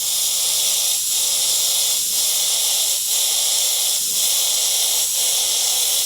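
Steady close airbrush hiss of compressed air spraying paint for flat toning, continuous and loud with brief dips in flow about once a second as each coat is laid down.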